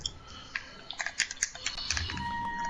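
Quick, irregular keystrokes on a computer keyboard, soft and close, clustering into a brief flurry of clicks over a faint steady background tone.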